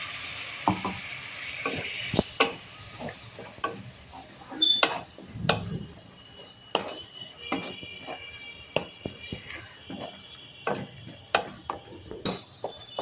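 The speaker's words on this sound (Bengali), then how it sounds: "এই সময় মশলার বাটি ধোয়া জল দিয়ে দেবো।" Mutton curry spice paste with Kashmiri chili sizzles in a pan while a spoon scrapes and stirs it, giving irregular close clacks over a steady low fry.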